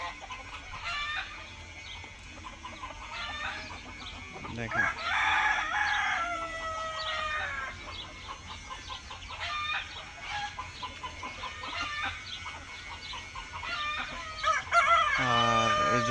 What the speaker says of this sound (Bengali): এই যে এগুলো হচ্ছে যে দেশি সোনালী মুরগি